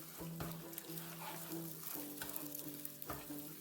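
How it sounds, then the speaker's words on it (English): Eggs stir-frying in hot vegetable oil on a griddle give a steady, close sizzle with crackles throughout, plus occasional scraping strokes from stirring. "Add your eggs and stir fry them until they're about halfway done."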